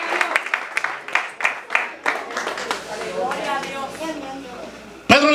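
A church congregation claps at a sermon, with scattered hand claps that build into a fuller burst of applause and crowd murmur. A voice speaks over the end.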